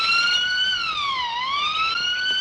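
A loud police siren wails continuously, its pitch sweeping down and back up, close by with no voices.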